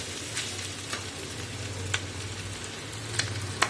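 Potatoes frying in a pan give a steady, close hiss of oil with a low hum beneath and a few faint clicks of a utensil.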